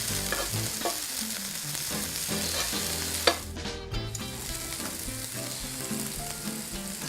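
Mushrooms sautéing with rosemary in a pan, a steady close sizzle and crackle of frying that runs throughout, with a brief clatter of stirring partway through and no talking.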